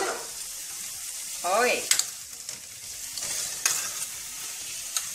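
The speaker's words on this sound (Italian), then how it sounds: "Abbiamo fatto soffriggere il Soffritto di carchine... cartine. Carotine!" A soffritto with carrots sizzles in a pan, stirred with occasional scrapes and clicks against the metal, while a voice speaks briefly over the frying.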